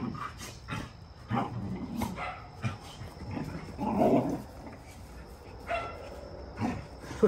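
Brittany puppies play fighting, giving repeated small barks, yips and growly scuffles close by, busy and continuous at moderate level.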